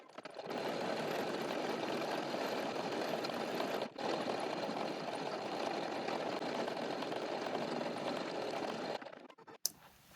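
An embroidery machine stitches shoe wings with a fast, continuous mechanical chatter. It runs steadily for about nine seconds, breaks off briefly once partway through, and stops near the end with a few clunks.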